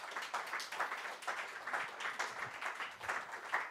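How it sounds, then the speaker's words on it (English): A small audience at a panel on Arctic strategy claps for the speakers, a faint, distant patter of individual claps in loose, uneven pulses that never build into a full ovation. "I believe that all of our speakers deserve a huge applause"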